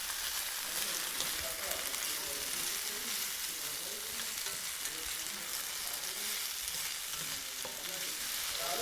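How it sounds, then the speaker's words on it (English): Mushrooms and blanched haricot beans fry in a hot cast iron pan, giving a continuous, even sizzle with soft crackling pops close by, with no talking. "We are cooking in a cast iron pan, so we don't really want the mushrooms to wilt and get spongy"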